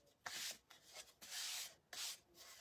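Three long, rough scrubbing strokes of sanding and brushing along the painted edges of a craft kit piece, close and fairly quiet with short pauses between them and no voices.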